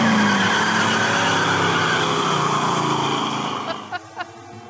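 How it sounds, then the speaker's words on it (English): Race car engine roaring loud and steady for about four seconds with a continuous high whine, dropping off near the end where two brief bursts follow. "I figure the first thing before I come on needs to be a race car going"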